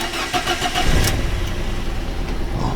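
Engine of a Fiat 500 with a 16-valve motor, misfiring across multiple cylinders with the check-engine light on, running steadily with an uneven, rough low rumble, close by and without talk.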